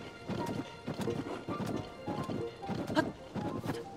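A horse gallops in Zelda: Tears of the Kingdom, its hooves striking in a steady, quick rhythmic clip-clop close up, with occasional heavier thuds and no talking.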